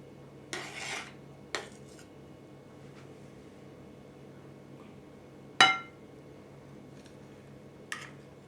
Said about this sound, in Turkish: şimdi kupalarımızı dolduruyoruz